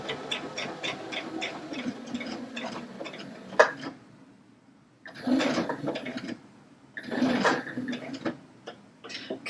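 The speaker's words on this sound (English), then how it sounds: "We're going to stitch right along the edge." A Baby Lock Allegro sewing machine stitches along a fabric edge in fast rhythmic bursts, running, pausing briefly, then starting again, with quieter gaps between the runs.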